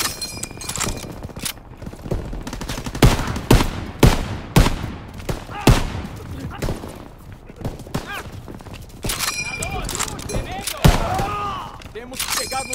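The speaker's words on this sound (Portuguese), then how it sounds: "Para avançar com essas metralhadoras atirando em nossa posição!" Machine-gun fire and scattered gunshots crackle in a dense battle scene in Call of Duty WWII on Xbox One, with loud bursts over a busy wartime mix where voices shout at times.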